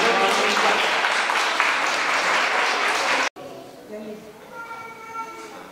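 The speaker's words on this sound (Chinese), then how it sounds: "那掌声欢迎一下" Applause at a Go tournament welcoming a player, dense clapping for about three seconds that cuts off abruptly, followed by quieter room sound and voices.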